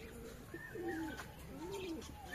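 Soft, low cooing of pigeons, a few rolling calls repeating close by over a faint steady background hum.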